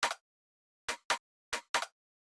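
Three unprocessed rim shot samples play in a sparse, off-beat pattern of five dry, bright, very short clicks with silence between them, alone.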